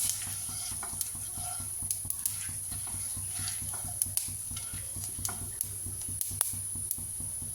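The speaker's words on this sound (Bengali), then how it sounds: "মৌরি আর জিরে ঘিটার মধ্যে দিয়ে একটু ভেজে নেব।" Fennel and cumin seeds frying in hot ghee for Kashmiri pulao, a steady, close sizzle dotted with small pops and light stirring ticks.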